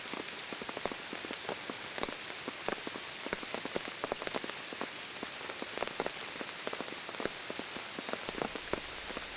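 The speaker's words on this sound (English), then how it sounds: "the rain begins pounding down really hard" Heavy July rain pounding down in a remote Bhutanese village, a constant dense hiss dotted with countless sharp raindrop ticks, steady and unbroken throughout.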